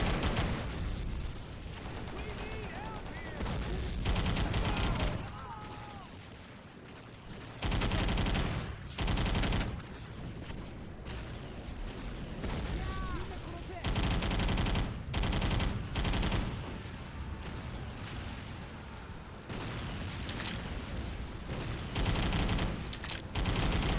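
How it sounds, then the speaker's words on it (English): Sustained gunfire in the Xbox 360 game Battle for the Pacific on Wake Island: repeated loud bursts of automatic fire and rapid shots rattle across the whole stretch, with brief pauses between volleys and a dense combat backdrop. "Really shooting up this guy's leg."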